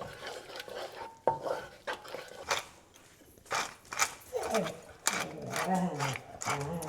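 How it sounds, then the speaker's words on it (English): A black pepper mill is cranked in short, gritty grinding bursts, fairly close and separated by pauses, followed by a whining, vocal-like sound in the background. "You must not like the cranking of my black pepper mill."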